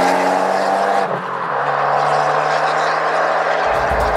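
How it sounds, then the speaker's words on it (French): An Abarth 124 Spider with the Record Monza exhaust roars loudly and close, its engine note holding a steady drone, dipping briefly as revs change, then a sharper burst near the end. "l'échappement sur Record Monza est juste assourdissant"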